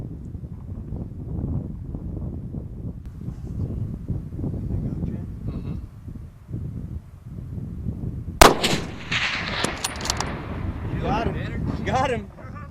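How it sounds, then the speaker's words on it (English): A hunting rifle fires once outdoors, a sharp loud crack partway through that rings out over steady wind noise, with hunters talking before and after the shot. "Yeah, that was a good shot."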